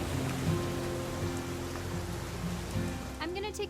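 Steady rain falls in the video game What Remains of Edith Finch, a dense hiss of drops under faint background music and voices.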